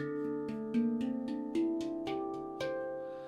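A series of ringing metallic handpan notes struck one after another at an even pace, each tone sustaining and overlapping the next, with no talking.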